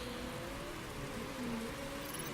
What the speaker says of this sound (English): The rain is pummeling down, it's getting wetter and wetter